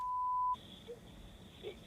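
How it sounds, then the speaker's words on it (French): A steady electronic censorship bleep holds one tone for about half a second, then cuts off, leaving quiet room noise behind it. It sits over speech in a documentary about African migrants. "Je crois elle a essayé de biper, là, de ce qu'on voit."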